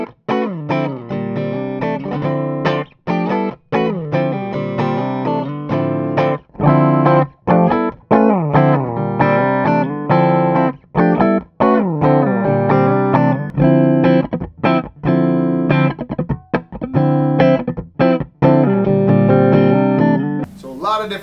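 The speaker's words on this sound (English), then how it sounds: "here we are on the single coil middle pickup here on the J Custom." Clean electric guitar played through the single coil middle pickup of a J Custom into an amplifier's clean channel, a steady run of plucked notes and chords ringing out close and loud for the whole stretch.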